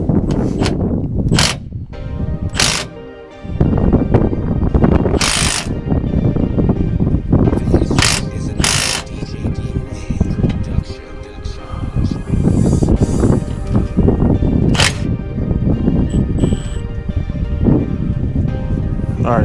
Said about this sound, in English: I'm gonna just hit it with the gun.